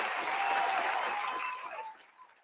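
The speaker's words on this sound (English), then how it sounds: "I'm just gonna give you a round of applause" Brief applause from a small group, dense clapping that holds steady and then thins out and fades near the end.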